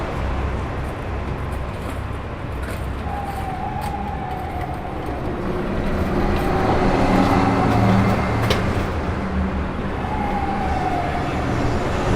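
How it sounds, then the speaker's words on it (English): An ambulance siren wails twice at moderate distance through a Manhattan street, rising above a steady wash of bus and car traffic noise. "Yup, that's the ambulance right there."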